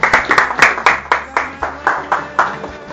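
A small group claps in rhythmic bursts, sharp hand claps repeating steadily and close by, fairly loud with no talking.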